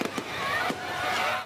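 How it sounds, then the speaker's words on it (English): Fireworks burst in a few sharp cracks over a dense crackling wash at an outdoor stage event while the roof above the stage burns, loud and continuous with faint crowd noise beneath. "An extraordinary sight as the fireworks continued while the roof above the"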